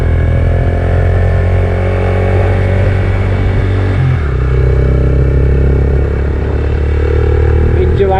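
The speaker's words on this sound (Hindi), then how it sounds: "पहले गियर में बाइक जोर लगाता हुआ ऊपर जा रहा है।" A motorcycle labours uphill in first gear on a narrow tree-lined road in Kashmir, a loud steady engine drone that shifts in pitch midway, close up, with speech over it.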